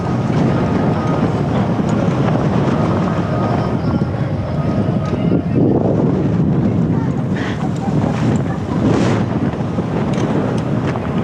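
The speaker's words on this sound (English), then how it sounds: "Man, this wind is crazy." Strong gusting wind buffets the microphone outdoors at a MotoGP track, a loud continuous low roar with rough surges throughout and no clear speech.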